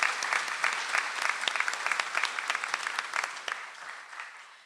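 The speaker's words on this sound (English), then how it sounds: "Let's give her a round of applause." A ceremony audience applauds an honoree at a dean's list recognition event, with dense, lively clapping that stays strong and then thins and fades toward the end.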